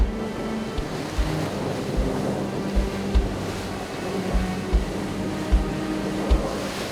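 Wind roars over rolling sea in the far north, with rhythmic low thuds of water striking a boat's hull, a steady, blustery wash with no talking.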